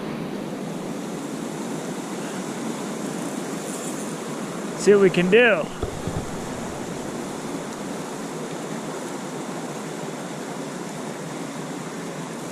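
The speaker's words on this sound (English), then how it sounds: "All right, got a nice waterfall." Small creek waterfall in the Eastern Sierra gives a steady, close rushing of falling water throughout, broken midway by a brief spoken phrase.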